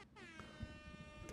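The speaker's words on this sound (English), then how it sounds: "Let's get the air horns going here." An air horn sound effect blares on a livestream, a sustained harmonic honk that fills the whole moment, faint overall.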